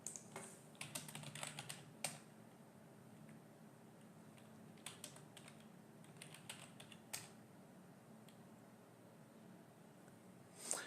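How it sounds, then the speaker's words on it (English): Sharp key presses on a computer keyboard entering shortcuts, coming in quick bursts of several taps separated by quiet pauses, close and fairly soft with no talking. "Note that I'm using keyboard shortcuts here instead of voice"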